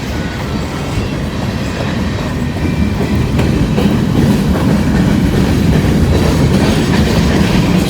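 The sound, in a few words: freight train running slowly on the tracks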